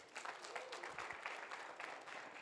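Audience applause at a transport industry conference after a closing address, a steady wash of many hands clapping at moderate volume, sustained without pause.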